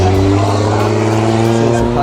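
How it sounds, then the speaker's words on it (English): Drift cars doing runs at a Formula Drift event in Japan make a loud, continuous engine drone, near and steady throughout, with a crowd murmuring underneath. "See some cars are doing runs at the moment."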